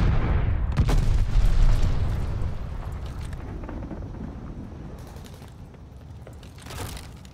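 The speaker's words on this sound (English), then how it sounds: "Friendly, sending a glide bomb." Glide bomb explosions in the video game Call of Duty: Vanguard: a loud, heavy boom opens with a deep rolling rumble that slowly fades, followed by sharper distant bursts and cracks of gunfire.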